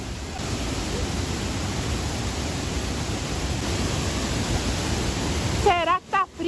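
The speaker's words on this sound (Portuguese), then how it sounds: "Eu não gravei muito lá na cachoeira porque tava um barulho muito forte" Steady, dense roar of rushing water fills the whole clip, loud and unbroken, close to a waterfall in Rio Verde, Goiás, Brazil; a brief voice cuts in near the end.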